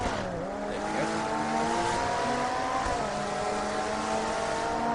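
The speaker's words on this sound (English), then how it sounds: "Love the sound of this car." A GT class race car engine in the racing game Total Immersion Racing, loud and close, with shifting revs and pitch changes as gears change, alongside other car noise, no talking.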